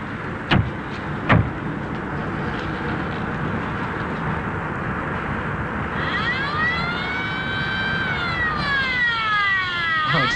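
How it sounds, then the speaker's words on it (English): An air base emergency siren starts about midway, a loud wail that climbs, holds and then falls in pitch, over steady background rumble after two brief thumps. "they usually sound the siren if there's a crash landing"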